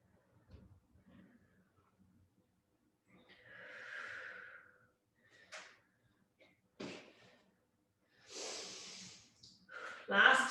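Slow breaths drawn in and let out during a yoga hip exercise, a few separate breathy rushes spaced between quiet gaps, fairly close and soft, with a sharper exhale or sniff near the end.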